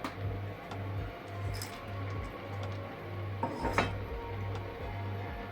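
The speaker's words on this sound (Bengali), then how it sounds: "এবার একটু ভালো করে নাড়তে হবে তলা থেকে, যাতে তলাটা লেগে না যায়।" A spoon stirs thickening milk in a pot for bottle gourd kheer, making faint, close clinks and scrapes against the metal over a low background hum.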